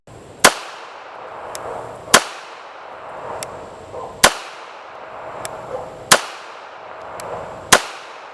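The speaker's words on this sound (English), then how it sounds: "There's just something about shooting an all steel frame pistol." IWI Jericho 941 all-steel-frame pistol firing steel-cased and brass rounds: five sharp, loud shots spaced roughly every one and a half to two seconds, each cracking then trailing off into a decaying echo, with no talk.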